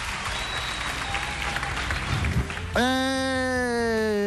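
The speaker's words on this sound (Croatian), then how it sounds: "Dajte nam veliki aplauz još za fenomenalnog našeg drugara." Audience applause and crowd noise fill a talent-show hall, steady and loud, ending as a strong sustained tone cuts in near the end.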